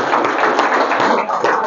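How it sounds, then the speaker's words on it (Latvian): Audience applause in a church, steady and dense clapping from many people throughout, fairly loud and close. "Aplausa viņu ticībai."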